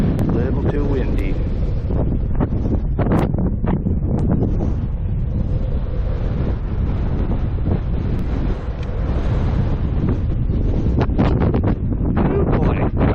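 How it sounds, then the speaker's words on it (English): Strong wind buffets the microphone on a boat trip, a loud, constant roar with gusty thumps throughout, while a person talks beneath it. "But it's quite windy."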